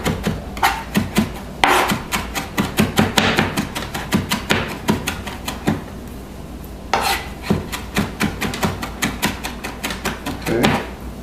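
A knife rocks quickly through fresh cilantro on a cutting board, making a steady run of crisp, close tapping chops in bursts with short pauses and no talk.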